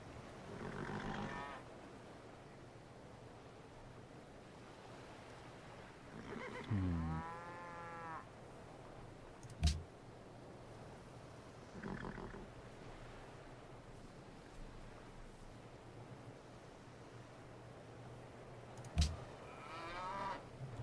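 Cattle in the Civilization V game low in a series of separate moos, a long drawn one early and shorter calls later, spaced apart over a soft steady ambient bed with no talk.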